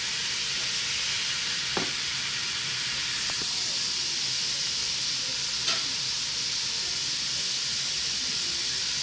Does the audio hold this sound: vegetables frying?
yes